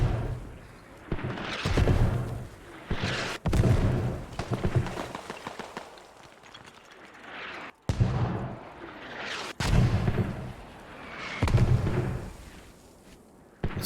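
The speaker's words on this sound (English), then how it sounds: "And it looks like he threw a grenade." A grenade blast in a multiplayer shooter match, heard amid a run of repeated booming explosions and gunfire bursts that come loud and close with brief gaps between them.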